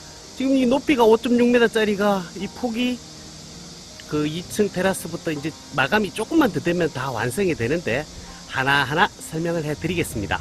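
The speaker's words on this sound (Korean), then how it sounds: "밖에서 들리는 매미 소리가 장난 아니게 잘 들리는 밀양 현장인데" Cicadas drone steadily outside a newly built two-story dome house at a construction site in Miryang, a continuous high shrill hum running beneath someone talking throughout.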